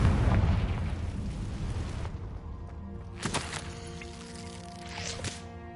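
In the Hogwarts Legacy video game, a Confringo blasting spell bursts with a heavy booming explosion at the start that rumbles and fades, followed by sharper pops and magical shimmering effects.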